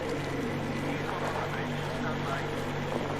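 Boat engine in the Metro Exodus video game, a steady low droning hum that stays even and moderately loud throughout, with faint game ambience over it.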